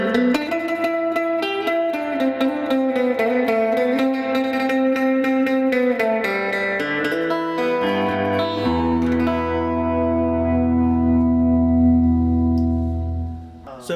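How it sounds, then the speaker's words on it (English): A Danelectro Hodad electric guitar with split pickups plays a classic surf tone through a Fender Pro Junior tube amp, a run of bright picked notes ending in a long sustained chord that rings out and fades, loud and close with no talking. "Definitely going to give us that quintessential classic surf sound, but with a different guitar."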